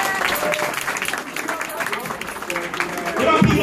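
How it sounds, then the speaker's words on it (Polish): A crowd applauds a boy at a school charity fundraiser, with scattered clapping that grows louder toward the end while people talk over it. "Oklaski na chłopaka."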